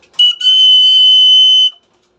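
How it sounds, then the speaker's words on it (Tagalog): A single loud, shrill whistle blast, short chirp first, then a sustained piercing tone of about a second and a half before stopping cleanly, close and alone. "bumili na rin pala ako din ng pito"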